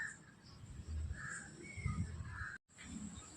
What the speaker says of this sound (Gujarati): જો આ કાગડો અહીંયા જ બેહેલો સાના ખાઈ જશે